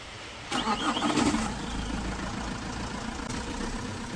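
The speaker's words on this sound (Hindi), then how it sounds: "इंजन टॉप अप करके डीजल डाली दी हमने, अब स्टार्ट करेंगे।" Diesel engine of an MG Hector cranking and firing on a cold morning during a major service, a short loud start burst that settles into a steady idle rumble.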